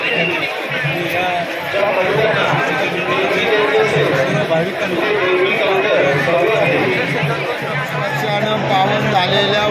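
Dense, steady chatter of a large crowd of devotees at the Khandoba temple in Wakdi during a Champa Shashthi festival, with someone speaking over the continuous babble.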